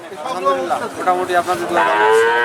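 At a busy cattle market, a red Shahiwal calf about five to six months old lets out a close, loud, drawn-out moo, with people talking nearby.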